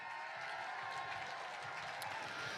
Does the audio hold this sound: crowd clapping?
yes